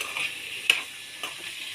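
Sweet corn kernels sizzle in a hot pan as they are stirred, with a steady frying hiss broken by a few sharp scrapes and clicks of the utensil.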